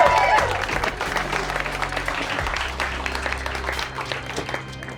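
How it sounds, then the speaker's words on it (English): An audience claps and cheers after a magic show, a steady burst of applause from a crowd that fades slightly toward the end, with some voices mixed in. "Give him a big round of applause."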